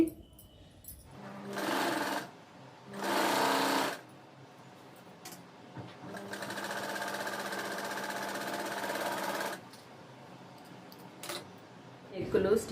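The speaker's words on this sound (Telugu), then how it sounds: "ఇక్కడ బ్యాక్ నెక్ కూడా స్టిచ్ చేసేద్దామండి" A sewing machine runs in several bursts while stitching the back neck of a dress: two short runs early on, then one long steady stretch of about four seconds, with quiet handling noises in the gaps between them.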